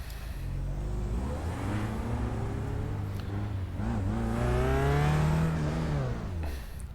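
Race car at full throttle near pit entrance at Sonoma: a loud, close engine note rises steadily through the gears, with brief dips at shifts and a high, strained whine before easing off.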